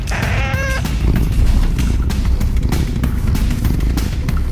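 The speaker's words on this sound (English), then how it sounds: "Oh my god, look, the cat is here." A cat meows in a stylized, melodic way, with a few tonal cries at the start. Dense, loud noise and rumble fill the rest of the clip, and the meowing drops away beneath it.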